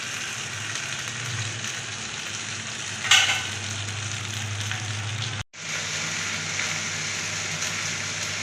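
Grill chicken sizzling and frying in a pan, a steady close crackle with a brief clatter partway through and a sudden cut before the sizzle resumes.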